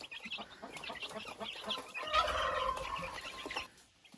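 Young chicks chirp steadily in a cage set out in the sun, with many high, overlapping peeps that grow denser and louder in the middle before thinning out toward the end.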